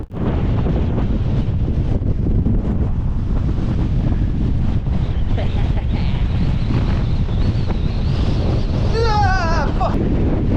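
Strong wind buffets a microphone outdoors at about 10.5 knots in the open Welsh countryside, a loud, continuous roar with gusty rumble for the whole stretch, and a brief faint whistle-like sound near the end.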